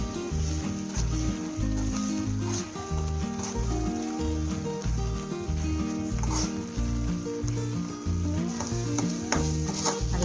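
Ground spice powder being stirred into a frying mixture for bisibelebath rice, steady scraping and sizzle with a rhythmic low clatter running throughout, close and fairly loud.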